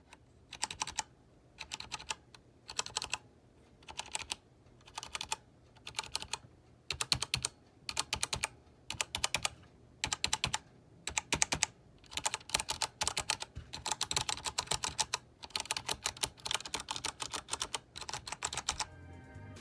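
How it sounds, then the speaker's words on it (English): Typing on a mechanical keyboard with MX Brown switches and HyperX keycaps, a steady run of close, crisp keystroke clatter in bursts with brief pauses, no talking. "show a sound comparison to see if the keys sound any different between the 2 different keycaps"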